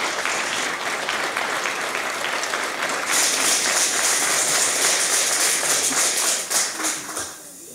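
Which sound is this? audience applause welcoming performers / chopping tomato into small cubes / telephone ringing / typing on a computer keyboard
audience applause welcoming performers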